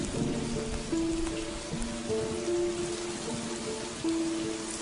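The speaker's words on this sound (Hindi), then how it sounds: "तुम इसलिए बारिश की बूंदें पीती हो?" Steady rain patters down throughout in a night-time film scene, a dense, even hiss of drops striking surfaces at moderate loudness, with a faint low tonal hum underneath and no talking.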